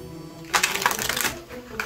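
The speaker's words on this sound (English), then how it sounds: "let's give these a good shuffle" A deck of playing cards is shuffled close up, giving a dense, crisp riffling burst that runs for over a second and then trails off.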